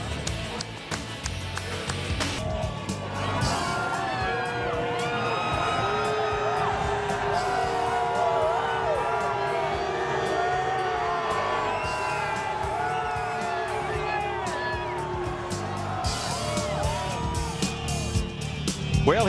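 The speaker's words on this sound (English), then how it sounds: "He climbs from the car, stands on the windowsill to a chorus of cheers from the crowd" Daytona speedway crowd cheering and whooping for Kyle Busch after his Budweiser Shootout win, a broad sustained roar of distant voices with shouts rising and falling throughout.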